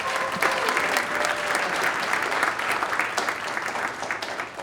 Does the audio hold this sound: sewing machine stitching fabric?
no